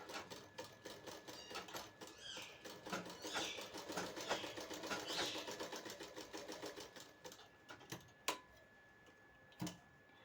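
A sewing machine stitches a katori blouse, its needle rattling in rapid, steady ticks. Soft and close, it runs continuously before slowing to a couple of separate clicks near the end.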